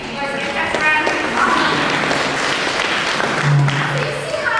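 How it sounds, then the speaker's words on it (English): An audience applauds continuously, a dense wash of clapping at a talk on relationships, with voices mixed in over the clapping. "You guys give that a round of"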